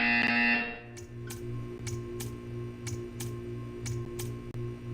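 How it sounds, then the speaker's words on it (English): Loud buzzer from the Portal 2 video game sounds at the start, then gives way to a low steady hum with regular ticking pulses. "You will hear a buzzer."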